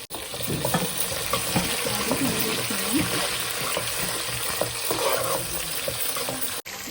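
Tomato, green chillies and cashews fry with browned onions in a pan for Bhimavaram prawn biryani, giving a steady close sizzle with stirring scrapes throughout and a faint voice underneath.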